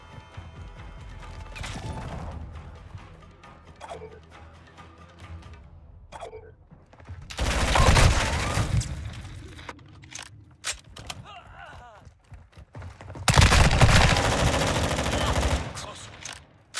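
A Glock 18 fitted with a 50-round drum magazine fires in a video game, with two loud, long automatic bursts separated by quieter stretches of game sounds and scattered clicks and shots.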